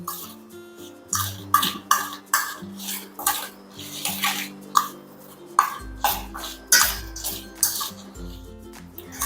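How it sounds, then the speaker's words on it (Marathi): Spices and oil being stirred together into karonda pickle in a metal bowl, producing a series of wet, squelching scrapes and clinks in irregular bursts, close and fairly loud. "आता आपण हे सर्व एकत्र करूया, सर्व मिक्स करून घेऊया."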